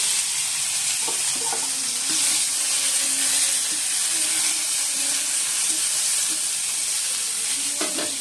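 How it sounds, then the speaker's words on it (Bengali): Dried red chillies, dal and onion fry in hot oil in a wok: a steady, close, bright sizzle and crackle running the whole time, with a few soft stirring scrapes and clinks. "কড়াইতে তেল দিয়ে দিয়েছি শুকনো লঙ্কা ফোড়ন দিয়ে দিচ্ছি"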